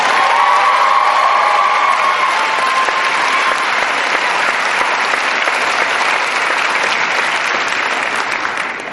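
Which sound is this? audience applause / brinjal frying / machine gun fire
audience applause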